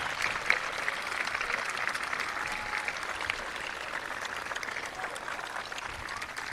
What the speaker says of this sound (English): Turn around and give everybody a round of applause for all they did for you to help you get to this point